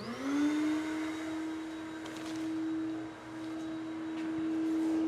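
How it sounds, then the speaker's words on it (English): A shop vac runs on a sandblasting cabinet in a community motorcycle garage, its steady motor whine rising at startup and holding loud and close throughout, with faint hissing bursts of blasting in the background. "you can turn the shop vac on that will actually recover all the dust out of this thing"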